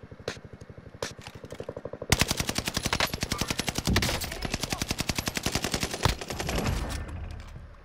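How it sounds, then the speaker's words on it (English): Rapid automatic gunfire from a video game shootout, a fast rhythmic burst of loud shots that thickens into sustained machine-gun fire with a few sharper single cracks, no voices. "He's getting shot from northeast somewhere, I don't know where."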